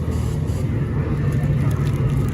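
Nitrous-equipped Chevrolet C10 truck engine with new exhaust, a steady, loud low rumble running continuously throughout without any talk.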